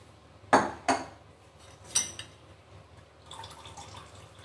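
A few sharp clinks of a utensil against a pot, followed by a soft trickle of rice water being strained into a pot, quiet and close.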